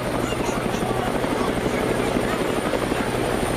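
A helicopter flies overhead with a steady, loud rotor thrum and engine whine that holds constant throughout, close and continuous with no talk.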